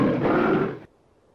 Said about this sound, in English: Our roars are very loud.